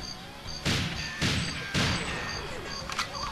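In the GoldenEye 007 jungle level, a turret fires in three short, loud bursts spaced about half a second apart, over a continuous music track.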